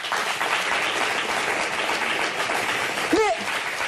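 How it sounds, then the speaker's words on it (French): Audience clapping in a studio crowd on a talk show, a dense continuous patter of many hands at even loudness, with a brief voice cutting in near the end. "Applaudissez"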